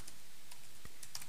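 Computer keyboard typing while coding an Android color picker app in Android Studio, a few sparse, quiet key clicks scattered irregularly over a faint background, with no speech.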